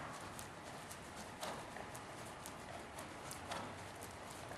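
Horse hooves clip-clop at a walk in an even, repeating rhythm, several crisp strikes close by over a constant background, with no talking.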